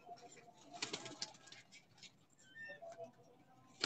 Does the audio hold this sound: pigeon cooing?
yes